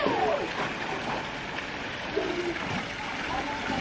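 Children splash in a pool during a night swim race, a continuous wash of churning water and splatter with excited voices calling out over it.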